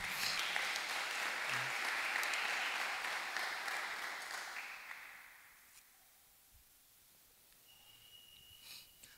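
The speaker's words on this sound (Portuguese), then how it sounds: "Você pode aplaudir a Ele por causa disso?" Church congregation applauding at a Christmas service, a dense, fairly loud wash of clapping for about five seconds that then fades away into a quiet hall.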